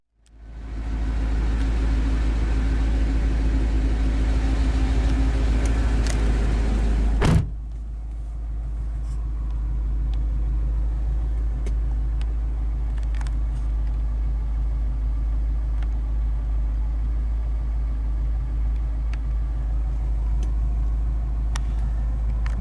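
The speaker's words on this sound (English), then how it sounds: "The engine was that aforementioned 6-liter 400 horsepower LS2 V8." A 2006 Pontiac GTO's 6-liter 400-horsepower LS2 V8 idles with a deep, loud, steady rumble, broken once by a sharp click, then settling into a slightly softer even burble with occasional small ticks.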